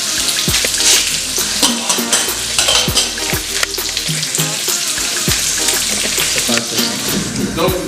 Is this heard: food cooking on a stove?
yes